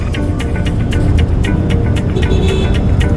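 Road traffic passing beneath a bridge in a busy Mumbai area near Parle Market, a loud, close, low rumbling drone of engines with repeated brief swishes and clatters from passing vehicles.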